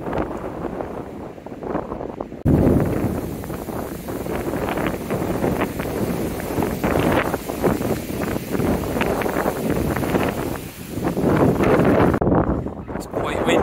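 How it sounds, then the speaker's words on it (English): Strong gusts of wind on Oat Mountain buffet the microphone in loud, roaring surges that rise and fall, with a quieter stretch at the start. "It's quite windy."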